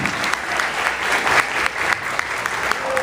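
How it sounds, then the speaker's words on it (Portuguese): Applause from an audience at a university event closing, steady dense clapping filling the room for a few seconds with a little voice beneath. "Juliana, uma salva de palmas para ela pela organização."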